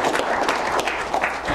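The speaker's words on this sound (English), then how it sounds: "let's give you guys a round of applause." An audience at an evening tech meetup breaks into steady, dense applause, many hands clapping together at once without pause for the whole short moment.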